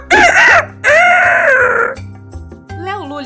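A rooster gives a loud, close crow in two strong bursts, the second long and drawn out, followed by fainter wavering sounds over soft music.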